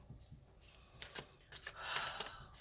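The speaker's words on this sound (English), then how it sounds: "I'm going to shuffle again" Tarot cards being shuffled by hand, soft close-up riffles and papery swishes in a few quick bursts, faint and intimate.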